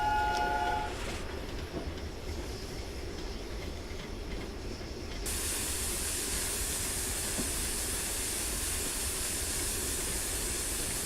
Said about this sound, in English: Whistle for the crossing.